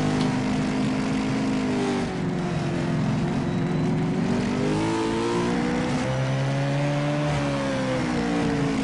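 A race car engine drones steadily at Infineon Raceway, its pitch dipping as it brakes and rising again as it accelerates, loud and continuous with no talk.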